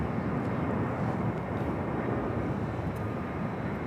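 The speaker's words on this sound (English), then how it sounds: "And the Delta A321 coming in from Detroit up next" Delta A321 airliner arriving at LAX from Detroit, a steady broad engine roar heard at a distance that holds level throughout, with faint talk in the background.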